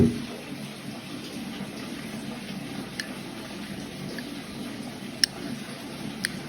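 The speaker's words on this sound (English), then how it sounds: "Just wanna rinse that off again, a bit more soapy." Water runs steadily while rinsing soapy lather off a Yellow Lake Llyn Melynllyn finishing whetstone during straight razor honing, a continuous close hiss with a few faint clicks.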